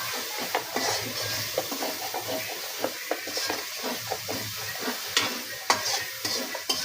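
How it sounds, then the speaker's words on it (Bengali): Spices are sautéed in a pan for a meat dish, making continuous sizzling under frequent spoon scrapes and knocks against the metal in an uneven stirring rhythm. "এখন মশলাগুলো কষাবো।"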